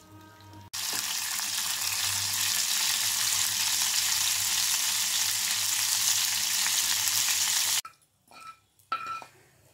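Cumin, mustard seeds and curry leaves fry in hot oil as a tempering for tomato rasam, giving a loud, steady sizzle that runs for several seconds, then cuts off into a few fainter clinks and sputters.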